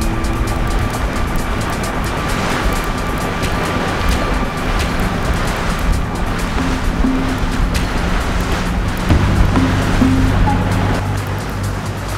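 Waves washing against a sailboat's hull during a Wednesday night keelboat race, a constant loud rush of water and wind noise that continues without letup.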